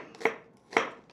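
Knife cutting vegetables into Lyonnaise slices for a Thai green curry: two crisp, close chops on a board about half a second apart, no voices.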